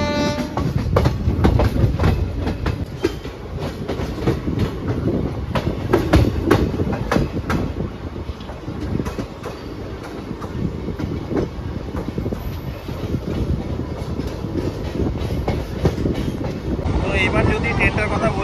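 The Aranyak Express runs on rails toward Panskura, a loud continuous rumble with rhythmic clickety-clack of the wheels heard from on board, with a horn sounding faintly and a voice speaking briefly.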